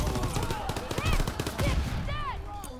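Call of Duty: WWII gameplay, with MG42 machine gun fire rattling in dense rapid bursts alongside other gunshots, over a steady background of battle noise.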